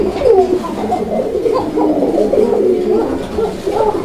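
A pair of Raj-golla pigeons cooing close by, low throaty rolling coos repeating steadily one after another.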